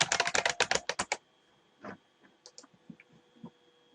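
A username and password are typed on a computer keyboard in a quick burst of close, crisp keystrokes lasting about a second. A few scattered, fainter clicks follow in near quiet.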